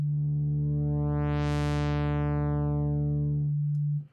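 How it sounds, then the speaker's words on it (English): A buzzy synthesizer half-saw tone holds steady while phase distortion sweeps its bright harmonics up and back down, like a filter opening and closing, then it cuts off. "when we play a note and activate the phase distortion,"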